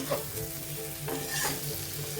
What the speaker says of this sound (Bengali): দিয়ে হালকা হাতে ভালো করে নাড়াচাড়া করে দেবো এভাবেই